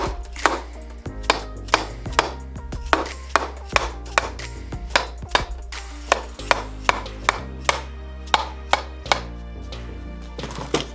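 A Harley Sportster cam cover is struck with a steady series of sharp metallic taps, about one per second, close and clean to break it free without prying on the sealing surface.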